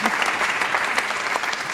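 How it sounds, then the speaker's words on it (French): A television studio audience applauds in a dense, continuous wash of clapping, close and fairly loud, with no other sound standing out. "On applaudit Philippe Guérin."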